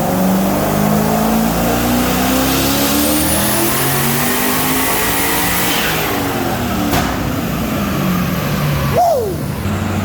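A turbo V8 Mazda FC RX7 revs hard on a dyno under added boost. A loud, sustained engine roar climbs steadily in pitch, then drops off near the end.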